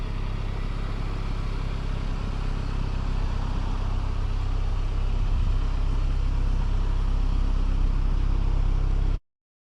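A 2023 MINI Cooper Countryman S All-4 engine pulls hard at full throttle, a steady loud drone with a dense low rumble that builds slightly over the run, heard from inside the car, then cuts off abruptly.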